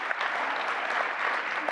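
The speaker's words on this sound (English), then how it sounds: "Please give them a round of applause." Audience applause for a debate team at an education conference's annual AI-in-learning debate, a steady dense wash of many hands clapping, fairly distant and alone without speech.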